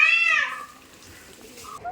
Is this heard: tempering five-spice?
no